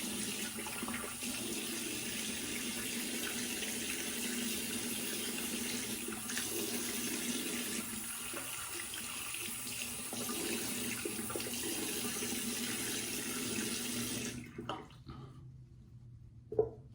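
A bathroom water tap runs steadily while rinsing after a shave with a Gem Micromatic open comb razor, a close, constant splashing hiss that stops near the end, followed by a brief clunk.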